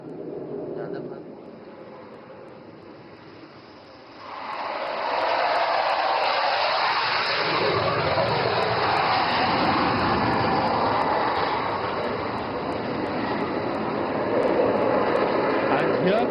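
A fighter jet flies an overshoot at India's biggest air show. Its engine roar swells sharply and stays loud and rushing for the rest of the clip, with a voice heard underneath.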